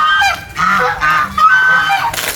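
Geese on a farm in San Antonio, Quezon, honking loudly and close by in repeated overlapping calls throughout.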